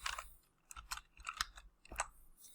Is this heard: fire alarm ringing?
no